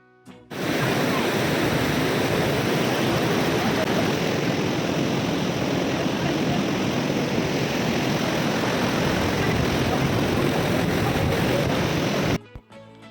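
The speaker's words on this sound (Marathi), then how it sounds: "प्रचंड वेगाने नदी पर्वतामधून वाट काढत खालच्या दिशेला वाहते" The fast Bhagirathi River near Gangotri roars through the mountains with a loud, constant rush of water, unbroken from start to finish.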